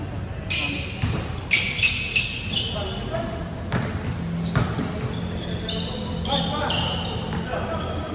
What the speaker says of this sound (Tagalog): Hindi, malakas yung talbog eh.